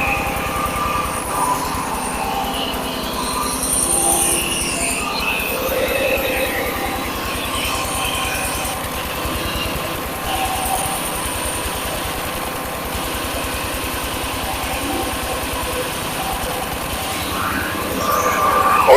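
A rice and paddy husking mill runs continuously with a steady, rhythmic mechanical drone and rattling throughout, loud and close, with faint voices now and then.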